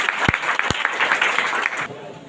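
A church congregation claps loudly together in a dense, sustained burst of applause that fades out near the end, with a couple of sharp thumps early on.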